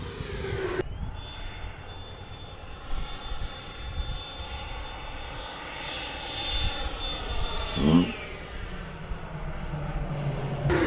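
A FlyFans Flanker SU-27 RC jet with twin 64mm electric ducted fans runs at full throttle, a steady high-pitched whine that holds for several seconds amid wind noise and tapers off near the end.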